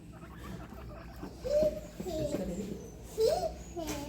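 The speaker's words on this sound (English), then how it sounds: "Yeah, guinea pig." High squeaky chirps from a guinea pig, several short calls over a few seconds, close by with background noise, at an animal farm park.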